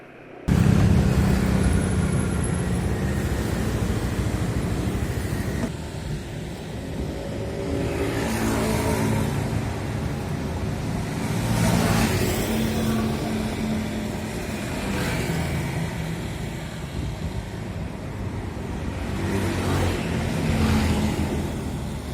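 A car engine runs steadily at close range, a low continuous rumble that swells and eases a few times as it revs.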